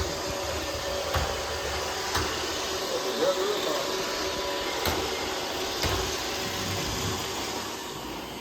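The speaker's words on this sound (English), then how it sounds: "He's vacuuming good." A Roomba robot vacuum cleaner runs steadily indoors, giving a continuous mid-level whirring hum with faint periodic clicks and bumps as it moves across the floor.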